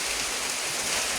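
Heavy rain and wind during a storm in the Philippines, a dense continuous hiss of downpour with no breaks, loud and close for a brief stretch.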